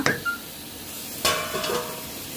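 Masala mixture simmering in a pan for chicken paneer masala, a soft steady sizzle and bubble with a stir-like scrape near the start and another brief clatter midway, no talking.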